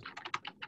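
Rapid, light keystrokes on a computer keyboard pick up faintly in the background of a park board video meeting, six or so quick clicks in a brief, uneven burst.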